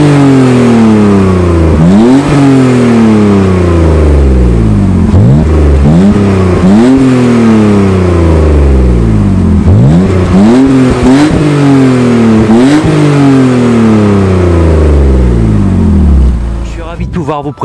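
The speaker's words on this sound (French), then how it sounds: "écouter la sonorité d'une mécanique aujourd'hui disparue, le L6 Atmo BMW équipé d'un silencieux Friedrich Motorsport" A 2002 BMW 325Ti E46 Compact with a naturally aspirated straight-six and a Friedrich Motorsport exhaust, revved loudly several times in a row, each rev sweeping up sharply and falling back to idle, heard close with no talk.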